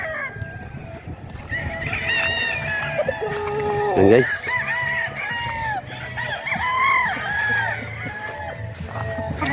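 Chickens and roosters newly moved onto a farm cluck and crow repeatedly, one loud rooster crow rising near the middle, with someone briefly talking over the busy flock.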